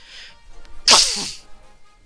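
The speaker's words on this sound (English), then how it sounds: "Did he sneeze?" A single sudden sneeze, close and loud, with a short sharp burst against an otherwise quiet background.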